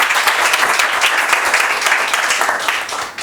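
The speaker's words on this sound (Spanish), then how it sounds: "Le damos un aplauso a la muy buena exposición del profesor" Steady audience applause for a professor's talk on postharvest handling of vegetables, a dense, even patter of many hands clapping close by, holding constant and easing slightly at the end.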